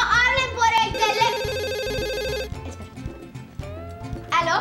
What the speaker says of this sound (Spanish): Mira, mi mejor amiga Joana me está llamando.